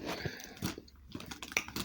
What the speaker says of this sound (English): I really hope I'm not crunching too loud